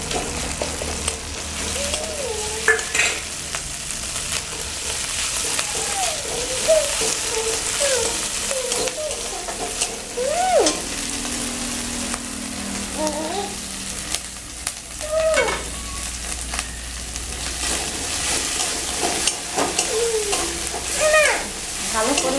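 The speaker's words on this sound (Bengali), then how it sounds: "এবার দিয়ে দেব পেঁয়াজ বাটা। আদা রসুন বাটা দিয়ে দেব।" Onion paste and ginger-garlic paste fry in hot oil, a steady sizzle under frequent stirring and scraping of the pan, with a voice heard faintly in the background.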